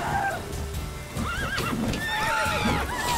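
A horse in The Witcher 3: Wild Hunt whinnies with rising and falling neighs while hooves clip-clop beneath, loud and close, with several overlapping calls across the moment.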